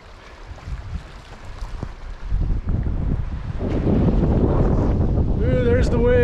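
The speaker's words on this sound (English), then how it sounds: "Ooh, there's the wind." Outdoors near the Tetons, wind blows and buffets the microphone, swelling from a moderate rush into a strong, roaring gust, while a person speaks briefly near the end.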